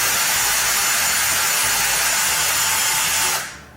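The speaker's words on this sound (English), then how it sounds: "It starts drilling a hole into the potato." A power drill bores into a raw potato with a steady, loud, high-pitched whirring grind that holds for several seconds and then cuts off.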